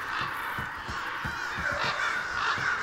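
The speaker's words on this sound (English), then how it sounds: "Birds. I hear lots of birds." Crow-like cawing calls repeat again and again within the outdoor ambience of the fighting game Absolver, fairly loud and evenly spaced over a constant background hiss, with nobody talking.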